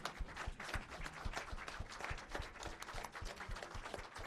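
A standing audience at a conference on change leadership claps to thank two people, individual hand claps distinct and rhythmic in a lively, fairly close burst that stays quite soft overall, with no speech over it.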